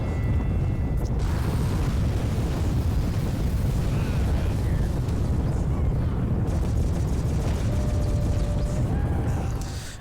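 An alien base blowing up in a video game: a long, loud, rumbling explosion roars steadily for about ten seconds, dense and low, with faint scattered mechanical effects, before starting to fade at the end.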